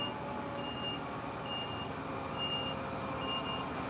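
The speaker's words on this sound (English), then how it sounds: "There's a wagon reversing up here, so you're going to hear a lot of beeps for the minute." A large lorry reverses along a narrow mile-long country lane, its reversing alarm sounding a steady series of evenly spaced beeps over a constant engine rumble.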